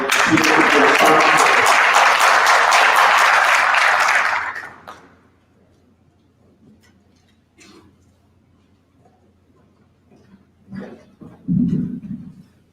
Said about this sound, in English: Let's give a round of applause for Angela.